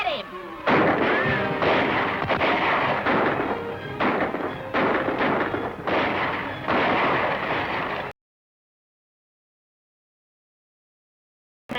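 Rapid, overlapping gunshots from pistols and rifles crack through a 1941 Western shootout, loud and close with shouting voices mixed in, before the sound cuts to silence.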